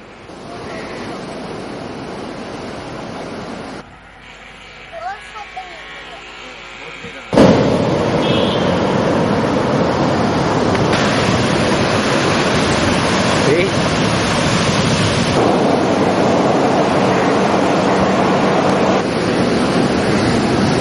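Rough sea waves pound the shore in a roaring, continuous wash that surges loudly midway and stays heavy, with a brief quieter stretch before; filmed for a news report on a coastal fishing district.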